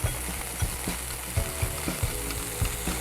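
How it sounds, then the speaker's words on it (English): Mayonnaise and stone ground Dijon mustard being mixed together in a bowl, with soft repeated thuds and scraping strokes under a steady background hiss. "Going to mix the two of those together."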